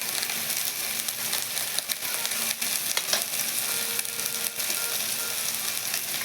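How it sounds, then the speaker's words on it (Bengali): Coriander, green chilli, dried red chilli and turmeric pastes sizzle in a pan, a steady low crackling fry with occasional stirring scrapes, fairly quiet and close, no voices. "এখন কিছু সময় ভেজে নেব।"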